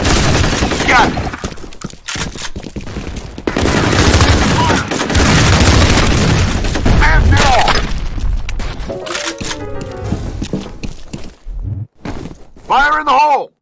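Rapid gunfire and an explosion from a grenade-style blast fill a F.E.A.R. Combat online match, loud and dense with bursts, while players shout and talk over the action.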